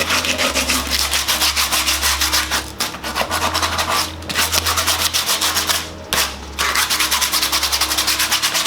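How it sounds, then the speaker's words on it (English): Steady, close, loud sanding that roughens the plastic surface of a duck decoy, with continuous rubbing strokes and short pauses and no speech. "I'm just putting that rough surface, I'm scratching that plastic."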